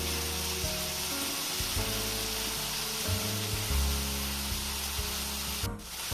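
Steady loud sizzle of food frying in a pan until crispy, continuous and close, with occasional stirring scrapes and a brief dip near the end.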